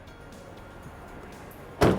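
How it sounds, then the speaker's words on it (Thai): Manual tailgate of a Toyota Yaris Cross swinging shut, a single dull thud at the end after a quiet stretch of faint background noise. "ในส่วนของฝาท้ายแบบธรรมดา นี่ ให้ดูเสียงปิดประตูนะ"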